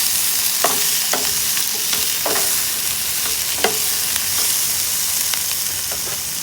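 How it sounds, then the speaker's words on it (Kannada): Ginger and tomato stir-fry in a pan for a matar paneer masala, giving a steady sizzle with repeated scraping strokes of a spatula throughout. "ನಂತರ ಶುಂಠಿ, ಟೊಮೆಟೊ ಎಲ್ಲವನ್ನು ಮಿಕ್ಸ್ ಮಾಡಿ ಹುರಿದು ತಗೊಳ್ಬೇಕು."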